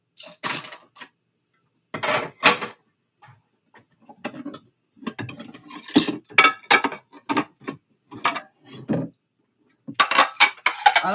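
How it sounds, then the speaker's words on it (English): Dishes, plates and cutlery clatter and clink in scattered bursts during washing, close by, with quiet gaps between the clusters of knocks and scrapes. "I told him if he wiped the plates off, I would wash them for him."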